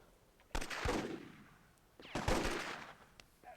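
Gunfire from a WWII match in Myth II: Soulblighter, two separate bursts of shots about a second and a half apart, each loud and close with a fading tail, with no talking over them.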